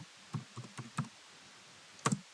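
A computer keyboard is tapped as a command is entered on an Ubuntu system, giving a handful of soft, close keystrokes in an uneven rhythm with a short pause before a final pair.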